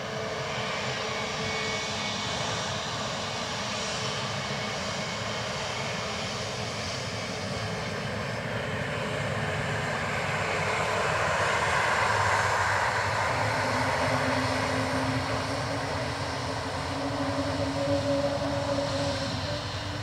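Airliner landing on runway 28 left at Dublin Airport, a continuous loud roar of jet engines swelling and shifting in pitch as it rolls out, with no talk.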